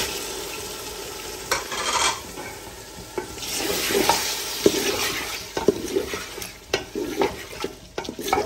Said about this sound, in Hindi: और चिकन को अच्छी तरह भून लेंगे